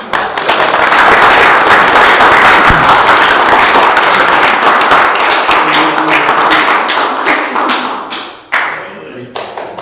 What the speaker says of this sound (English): I think she deserves a well-rounded applause